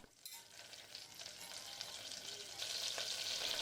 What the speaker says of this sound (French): Dans une casserole, faites fondre 25 g de beurre.